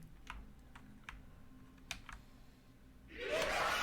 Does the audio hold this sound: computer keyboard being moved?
yes